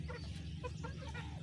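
Soft, repeated clucking from Misri hens on a village farm, several short calls over a steady low hum, fairly quiet and without speech.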